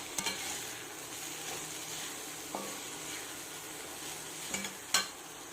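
Sliced elephant yam frying with onions in a pan, a continuous soft sizzle under a spoon stirring, with a few light scrapes and clinks against the pan and no voices.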